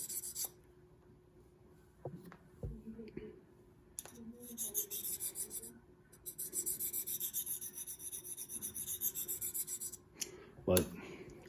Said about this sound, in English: instead of moving my elbow, I was moving the stone